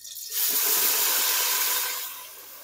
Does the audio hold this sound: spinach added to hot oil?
yes